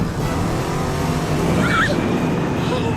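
A car races into a monster truck arena and drives onto the field, a steady, loud engine roar and broad road rumble running throughout with no pause, and a faint squeal rising briefly midway.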